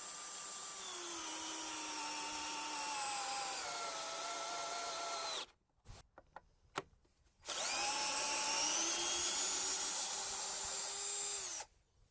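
A new Drillpro 21V cordless hammer drill in first gear whirs steadily with a rising pitch, stops briefly with a few short bursts, then spins up again and runs evenly before cutting off.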